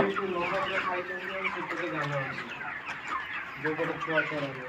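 Chickens cluck continuously at a rooftop chicken farm, a dense overlapping flock chatter of many birds at close range, with no talk over it.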